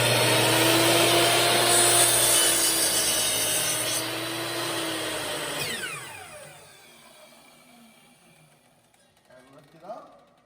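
Power saw cutting a wooden board to length for a cribbage board, a loud whining motor running with a grinding cut that winds down partway through, then near quiet with a faint clatter, with a voice talking.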